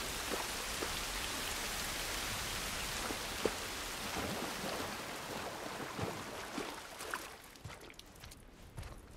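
Steady rain pours throughout a scene in the video game The Last of Us Part 1, a dense constant hiss with scattered louder drops and taps, thinning slightly toward the end.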